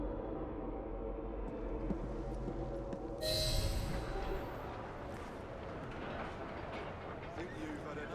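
A train rolling past in the London setting of Assassin's Creed Syndicate, a continuous low rumble and clatter with a brief hissing burst midway, heard under people talking.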